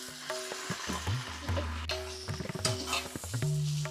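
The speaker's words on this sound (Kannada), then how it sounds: "ಇದು ಈರುಳ್ಳಿ ಫ್ರೈ" Onions frying in hot oil for a tempering, a steady sizzle with scattered stirring clatters, close and moderately loud, with a faint hum running underneath.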